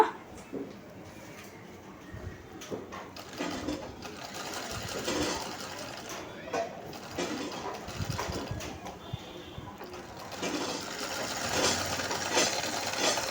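A sewing machine stitches a school uniform shirt in rapid, continuous mechanical bursts that rise and fall as the fabric is fed through, close and moderately loud, with no talking.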